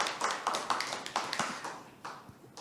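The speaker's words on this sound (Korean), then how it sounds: "큰 박수 부탁드리겠습니다." Scattered, fairly faint clapping from a small audience at an arts education workshop, a loose run of individual claps fading over a few seconds.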